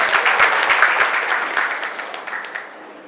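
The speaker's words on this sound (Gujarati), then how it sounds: "એકવાર એમના માટે ધન્યવાદ, તાળીઓ આપો." Audience applause fills a community hall at a Kutch Prajapati Samaj gathering, steady dense clapping from a crowd that slowly thins and fades over a few seconds, with no voices.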